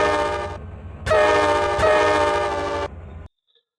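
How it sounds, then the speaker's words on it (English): Locomotive horn in the Trainz train simulator game: a short, loud, chord-like blast, then a longer sustained blast that cuts off abruptly into silence. "that's how you change a horn on a locomotive in Trainz"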